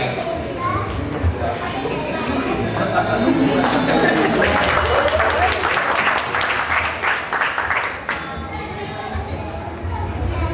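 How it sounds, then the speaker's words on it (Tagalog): Guests at an 80th birthday party applaud together in a sustained round of clapping that stays fairly steady and loud throughout, with crowd murmur mixed in. "Palakpakan po muli natin yung malakas naman na palakpak dyan."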